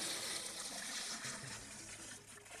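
Water pours into a homemade washing machine built from a plastic bucket, a steady gushing rush of filling liquid, moderately faint and continuous, without talk.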